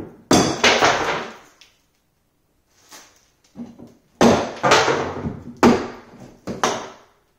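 Hard hammer blows strike and fracture wall tile behind a kitchen cabinet during a renovation, coming as sharp, loud cracks in uneven clusters separated by short silences, with some lighter taps between.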